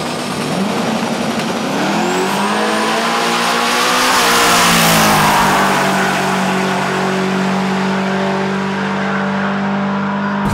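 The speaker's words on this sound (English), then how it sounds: "Looks like the Nova ate the Camaro, but just by a little bit." A Chevrolet Nova and a Camaro drag racing at a midnight drag event, with loud, sustained engine roar throughout as the cars rev and accelerate hard. Pitch climbs and shifts, then holds a steady drone up close.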